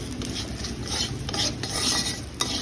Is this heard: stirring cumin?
yes